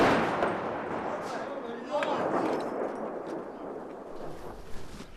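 Russian artillery shells land nearby around Ukrainian homes during the war, heard as a rolling, rumbling boom that swells and lingers over a wash of noise, with a sharper thud near the end.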